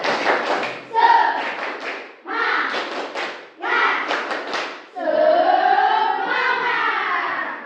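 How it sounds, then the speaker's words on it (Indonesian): Classroom of students doing a rhythmic 'tepuk semangat' spirit clap in several quick bursts, with chanting voices mixed in and a longer sustained shout at the end. "Tepuk semangat."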